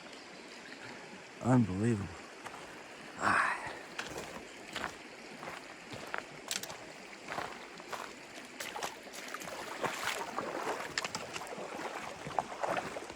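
A stream trickles and rushes steadily in the Gila Wilderness of New Mexico as a hiker wades across, with footsteps splashing over slippery rocks and someone speaking briefly.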